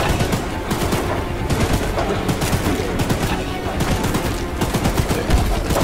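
A gun firing in the video game Choo Choo Charles, with continuous, loud, dense bursts of rapid shots and clatter that fill the whole stretch, and a voice talking at times underneath.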